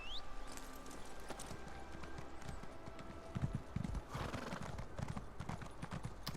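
Horse hooves clip-clopping at a steady trot on a mount in the video game Elder Scrolls Online Morrowind, rhythmic and continuous with a brief whinny-like tone at the start, fairly quiet and even, no voices.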